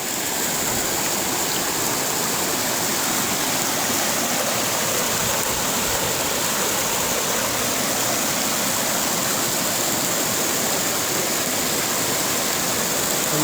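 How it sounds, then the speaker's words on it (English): A creek rushes over a trail crossing on the Snake River Trail in Hell's Canyon, Idaho, a steady, loud, broadband wash of flowing water heard close by with no voices. "this is the first creek crossing."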